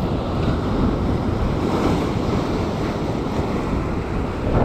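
Sea waves breaking at a rocky shore during fishing, a loud continuous roar of surf with heavy wind noise buffeting the microphone, no voices.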